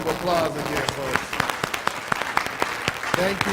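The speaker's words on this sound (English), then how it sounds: "give him a round of applause again" Audience at an LRB kick-off honoree event clapping in a round of applause, a mix of sharp individual claps with voices talking and cheering over it.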